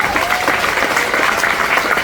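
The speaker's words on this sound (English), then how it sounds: "Give her a round of applause." Loud, dense applause from an audience at the Stone Pony in Asbury Park, New Jersey, during a lineup unveiling event, sustained evenly throughout without a break.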